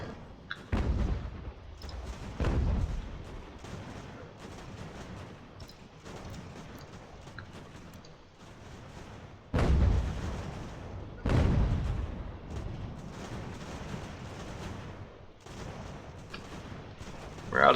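Artillery battery firing in Ultimate General: American Revolution, a few heavy booming volleys spaced several seconds apart over a continuous rumbling battle din of scattered musketry, with no talk.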